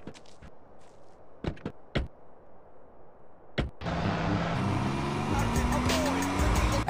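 A car in the video game GTA San Andreas starts up and drives off, with engine noise rising and holding loud after a few sharp knocks and thuds, while character voices talk.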